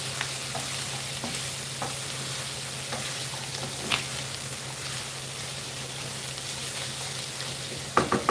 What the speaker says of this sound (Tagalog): igisa ko na lang din itong ating carrot at sayote